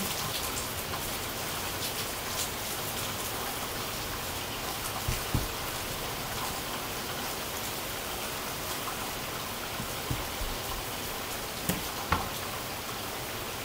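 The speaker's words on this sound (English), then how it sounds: "I'm going to go play in the rain." Steady rain pattering on a hard surface, a continuous hiss with occasional louder drops splashing nearby.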